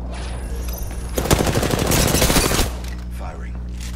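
A loud, close burst of rapid automatic gunfire in the video game Apex Legends, lasting over a second amid game sounds, while a player talks.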